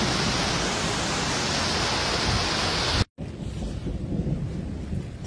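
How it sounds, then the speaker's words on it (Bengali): Steady rain falls outside in the hills of Darjeeling, a dense, even hiss that fills the whole clip with no voices, broken only by a brief dropout partway through before the softer downpour resumes. "এই দেখি আর বাইরের দিকে বৃষ্টি শুরু হয়ে গেছে আবার।"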